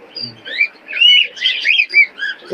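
A male pigeon calls at a pigeon market in Khulna, giving a close, loud series of short chirping and warbling notes in quick succession.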